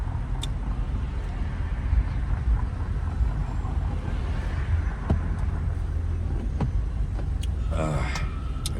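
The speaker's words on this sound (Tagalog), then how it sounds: "Kasi matraffic ngayon dito sa dinaanan ko" Busy road traffic on King Fahad Road in Riyadh, with a continuous low rumble of passing cars, a few brief louder swooshes and a faint whine near the end.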